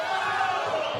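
A crowd at a fight event roars for the fighter Salomon, a dense, sustained wall of cheering and shouting throughout a brief moment.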